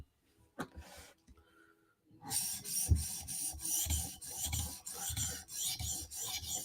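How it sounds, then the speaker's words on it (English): A Spyderco Slysz Bowie knife is drawn across a 400 grit sharpening stone in steady back-and-forth strokes, a close, continuous rasping scrape that starts after a few faint handling taps. "So we're going to do this 400 grit stone twice. So we're just going to do a quick pass here."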